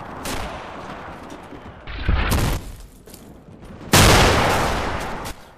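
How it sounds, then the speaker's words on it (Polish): Petard explosions in the Red Orchestra Eastern Front video game: two heavy, loud blasts with rumbling gunfire and crackling in between, and no voices. "Petard do mnie walą."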